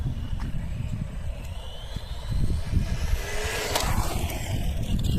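Tamiya TT01 RC car on a 7.2 V NiMH pack driving on a road at full throttle, a thin electric motor whine rising and sweeping in pitch over heavy low wind rumble, moderately distant.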